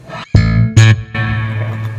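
Loud, distorted notes from an Ibanez SRX2 EX2 bass guitar ring out in a few heavy plucks, each trailing into a washy reverb tail.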